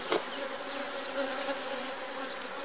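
Honey bees buzz around a freshly split hive, a steady, close drone of many wings with a brief louder burst at the start and no voices.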